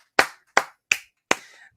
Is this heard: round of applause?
yes